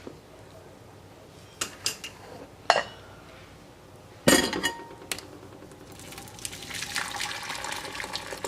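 In a kitchen sink, a few light clinks of a utensil and strainer come first, then blueberry syrup pours through the strainer with a soft, continuous trickle and splash close by.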